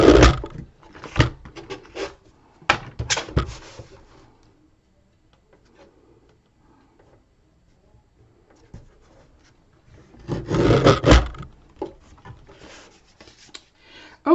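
Board pieces for an accordion album are cut by hand in close, scratchy, rubbing bursts, one cluster at the start and another near the end, separated by a long quiet stretch.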